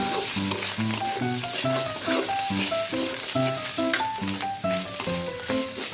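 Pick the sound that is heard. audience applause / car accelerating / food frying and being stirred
food frying and being stirred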